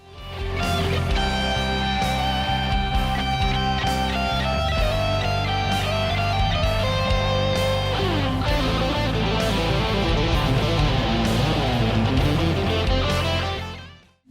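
Electric guitar recorded at home plays a sustained, layered melodic passage with rich chords and bends, loud and continuous for the whole stretch, with no voices over it.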